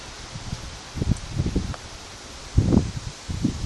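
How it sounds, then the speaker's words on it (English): Strong wind buffets the microphone at an outdoor shooting range in irregular rumbling gusts, loud and close, with leafy rustling between them. "it's very windy"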